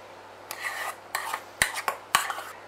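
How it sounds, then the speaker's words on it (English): Cream being folded into passion fruit curd in a bowl: five soft scraping strokes of a utensil against the bowl, each with a brief rasping swish, close and fairly quiet. "when you slowly stir it into it, fold it"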